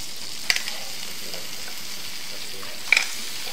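Food sautéing in a pan gives a steady, soft sizzle throughout, with two brief sharp clinks of the pan or utensil near the start and toward the end.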